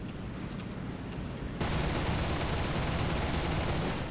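Aircraft cannon and machine-gun fire rattles out in War Thunder, starting as a low engine roar and then breaking into a sustained, dense burst of rapid shots that carries on to the end.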